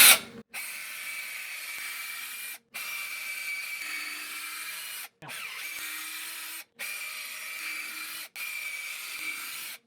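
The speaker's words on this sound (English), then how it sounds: "Put it up and start drilling in." A power drill with a 6-inch bit bores into a door to mount a heavy lock, giving a steady grinding whir in several bursts separated by short pauses.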